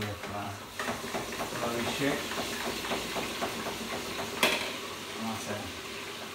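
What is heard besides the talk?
chips deep frying in a fryer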